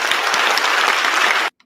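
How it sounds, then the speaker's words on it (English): An audience breaks into brief, dense clapping at a TEDx-style talk, a loud burst that stops abruptly. "that was an applause line."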